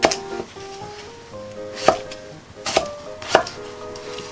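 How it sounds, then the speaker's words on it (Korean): A knife chops potatoes into thick pieces on a cutting board for tuna gochujang stew, with four sharp, separate thuds spaced unevenly, close by and without talking. "감자는 도톰하게 잘라주세요."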